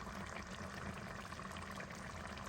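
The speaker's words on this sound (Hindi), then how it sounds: "अब ऐड करें इसके अंदर ऑयल, 1 चमचा डाल रहे हैं ये" Cooking oil, about a spoonful, poured into a karahi over garlic paste for a Pakistani chicken black pepper karahi, giving a faint, continuous liquid trickle close by.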